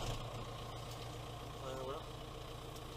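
A JCB telescopic handler's diesel engine idling nearby, a low steady rumble that holds even throughout, with a person speaking briefly over it.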